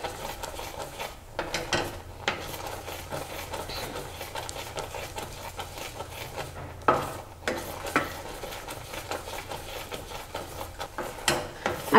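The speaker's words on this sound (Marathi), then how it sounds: "3 मिनटं झाले आपण ढवळतोय" A spoon works a thickening jackfruit modak mixture in a pan, making repeated scraping strokes at an uneven rhythm over a soft background sizzle.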